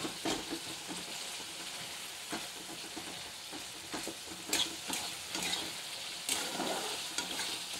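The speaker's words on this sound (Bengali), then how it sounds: "ভালো করে মশলাগুলো আমি কষিয়ে নেব" Ground spice paste frying in a pan for a lunch dish, a continuous hiss of sizzling broken by repeated scraping stirs, fairly quiet and without speech.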